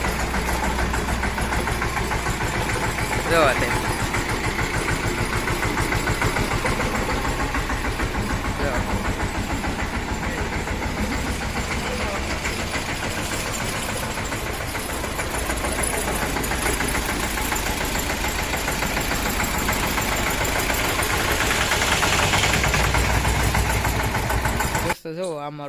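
A farm tractor engine runs steadily throughout while being driven, a constant loud rumble with a rhythmic knock, someone briefly talking over it before it cuts off at the end.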